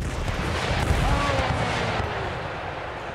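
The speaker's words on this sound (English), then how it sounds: "if we get one more volley from either of our artillery pieces" Artillery volley booming across an Empire: Total War battlefield, a dense rumble of heavy cannon fire and blasts with a faint whistling streak through it, fading slightly toward the end.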